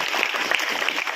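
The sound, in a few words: applause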